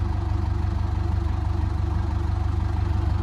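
A narrowboat engine idles while warming up, a constant low, rhythmic chugging that stays close and steady with no other sounds.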